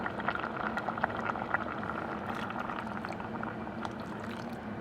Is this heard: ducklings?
no